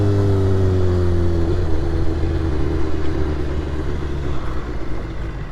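A Nissan GT-R engine rumbling close by in an apartment complex, a loud, steady low drone that eases slightly toward the end.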